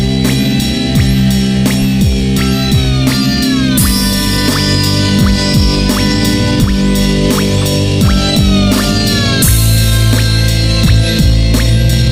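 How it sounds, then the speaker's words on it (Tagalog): Vehicle engine idling rough after a fresh tune-up, heard as a steady loud drone with an uneven, shaking pulse and recurring knocks, with no talk over it. "Iba talaga yung tunog ng makina ko, pumapagpag"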